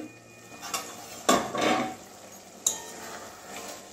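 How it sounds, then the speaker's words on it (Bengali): A lid comes off a pot of kachki fish simmering in a spicy mustard curry, giving a few light metallic clinks and a louder clatter, then another sharp knock against a quiet background. "তো এবারে 2-3 মিনিট পরে ঢাকনাটা খুলছি।"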